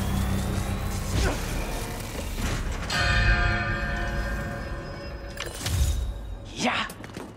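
A bell rung with echo inside a hangar in the Spider-Man 2 video game, metallic strikes with long ringing tones that decay into reverberation, mixed with game thuds and clanks.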